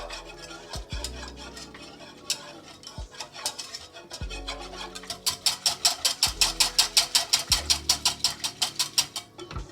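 A spoon stirs a thickening sauce in a pan for an oreille d'âne dish, with scattered scrapes at first that build into fast, regular strokes, close and clear with no talking.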